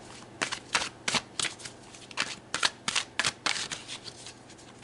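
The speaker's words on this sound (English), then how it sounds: "So let's pull some more cards." Tarot cards being shuffled and pulled from a deck, a run of crisp riffling bursts in quick uneven rhythm, close and clear with no voices.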